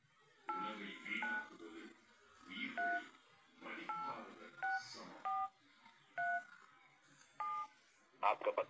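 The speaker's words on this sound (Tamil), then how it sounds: "அப்போ இந்த நம்பருக்கு அடிக்கிறேன்." Telephone keypad tones beep in quick groups of crisp dual-tone presses, about a dozen in short clustered bursts, clear and close, with soft background murmur between them.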